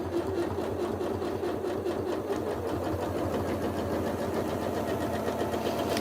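A sewing machine free-motion stitching on a quilt, a continuous fast mechanical whir and rapid needle chatter running steadily throughout at moderate volume.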